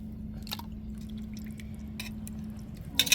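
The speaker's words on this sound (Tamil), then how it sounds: "இப்போ நம்ம மீனையெல்லாம் அப்படியே குழம்புக்குள்ளே சேர்த்துருவோம்" Pieces of tuna slipping into a simmering coconut fish curry for a healthy Tamil-style kuzhambu, making a few soft wet drips and squelches over a steady low hum, with a louder splash near the end.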